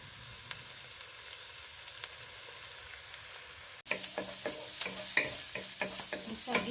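Ground beef sizzles in a pan as it is sautéed for ginisang repolyo. Quiet frying gives way to a louder sizzle, with repeated scraping stirs of a utensil against the pan.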